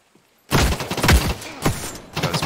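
A rapid burst of automatic gunfire in the video game The Cycle: Frontier starts abruptly after a moment of quiet, loud and close, with sharp cracks and echoing thumps running into a second volley.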